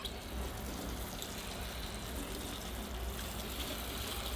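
Water poured steadily onto the soil of a repotted bonsai umbrella tree, a continuous close splashing and trickling wash with no breaks and no talking.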